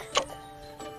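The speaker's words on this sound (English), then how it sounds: "It is a clock." A clock ticking in two clear ticks spaced well apart, close and fairly quiet over a faint steady background, with no voices.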